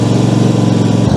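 Engine of a Cobra LTX 92 HR2L ride-on lawn mower running steadily after a key start, a loud, close, even buzzing drone with a slight shift in pitch near the end.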